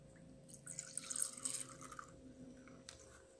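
Half a cup of milk is poured into cake batter in a home kitchen, a faint, brief liquid trickle and splash lasting a few seconds.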